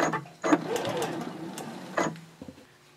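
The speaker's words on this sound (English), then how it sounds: "And then I'll just backstitch to end it." A sewing machine backstitches to finish a seam on a mini backpack card holder. The short stitching run is close and is followed by a couple of light mechanical clicks, with a voice speaking over it.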